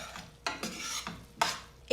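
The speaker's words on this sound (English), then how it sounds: "Give that a stir through." Keema with garam masala stirred in a pan: four or five distinct scraping strokes of a spoon against the pan, close and fairly quiet, over a faint sizzle.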